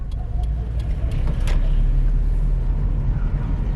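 A manual-transmission car drives steadily and turns at low speed, a constant engine and road rumble heard from inside the cabin, with a few faint clicks and no talking.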